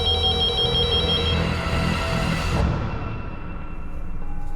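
A telephone rings in a dramatised crime drama scene, with a repeating electronic ringtone warbling steadily for a few seconds before cutting off, fairly loud with no talking.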